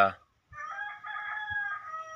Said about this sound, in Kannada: ಕೋಳಿ ಒಂದು ಕೂತಿದೆ, ಮೊಟ್ಟೆ ಇಕ್ಕಿರ್ಬೋದು ಮೋಸ್ಟ್ಲಿ